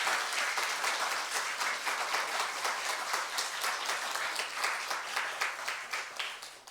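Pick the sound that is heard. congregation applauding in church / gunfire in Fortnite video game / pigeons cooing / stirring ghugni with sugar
congregation applauding in church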